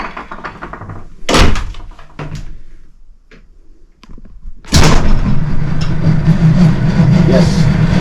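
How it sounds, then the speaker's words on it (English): A door inside a house swings and shuts with two solid thuds a few seconds apart, the second followed by a loud, steady mechanical hum. "Close this door."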